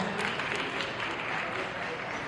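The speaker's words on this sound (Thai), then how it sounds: "ขอเสียงปรบมือกับทั้งสองท่านด้วยนะฮะ" Audience applause at the Synergy Night event held by M Studio and Channel 3 in Thailand, welcoming two guests on stage; a steady, dense wash of clapping that holds at an even loudness throughout.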